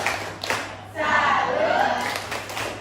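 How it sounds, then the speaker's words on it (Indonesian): A classroom of students performs a salute clap routine, chanting together in unison with a few sharp claps mixed into the group voices, close and fairly loud. "tepuk tangan untuk India dan Indri"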